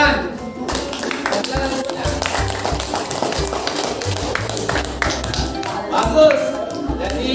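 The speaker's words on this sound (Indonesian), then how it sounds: "Tepuk tangan." A classroom of students claps briefly after a group presentation, light taps and claps mixed under ongoing talk and room noise, the clapping not very distinct.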